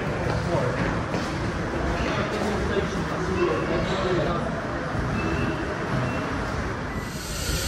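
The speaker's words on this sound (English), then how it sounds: "Waleswood returns with the train that's been up the line." The Waleswood locomotive rumbles past with its train at a heritage steam railway autumn gala, a steady, loud rolling roar of wheels and wagons that holds for several seconds while a voice talks over it.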